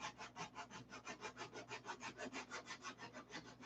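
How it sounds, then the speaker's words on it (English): Sandpaper rubbed by hand over a model airplane part, in a quick, even back-and-forth rhythm of about five scratchy strokes per second, close and fairly quiet, with no talking. "That's why most of these videos are sanding videos."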